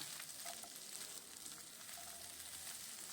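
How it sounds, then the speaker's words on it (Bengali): Potato strips frying in a little oil over moderate heat, a steady close sizzle with faint crackles, alone without talk. "এবার আলুটা দিয়ে একটু ভালো করে ভাজা করে নেব"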